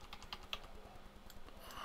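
Square bracket keys on a computer keyboard tap in quick light clicks during digital painting in Photoshop, a short irregular run of keystrokes heard close and quietly.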